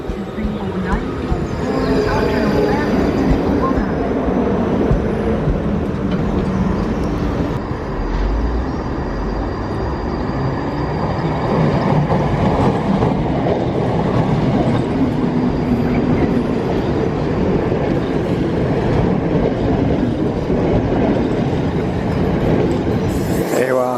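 A passenger train running from Dumbarton towards Glasgow gives a steady, loud rumble of wheels and carriage noise throughout, with rolling clatter and occasional faint squeal close by.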